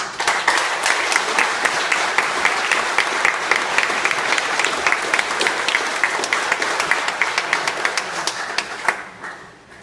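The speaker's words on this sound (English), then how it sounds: "let us give God and ourselves a huge round of applause" A church congregation gives a big round of applause on a Sunday centennial anniversary, dense clapping, loud and sustained, tapering slightly near the end before stopping abruptly.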